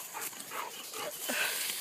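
Labrador retrievers out on a fetch outing, with soft dog whimpers and brief vocal sounds at moderate distance, fairly quiet and without talking.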